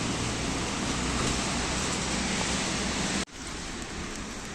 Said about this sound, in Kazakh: Жаңбыр жауып тұр ғой далада.